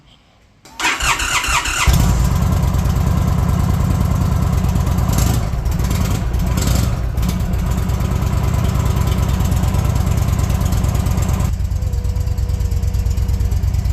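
Indian Chief Dark Horse Bobber motorcycle on its stock exhaust starts up and settles into a steady, loud, close idle with a deep rumble that runs on alone to the end.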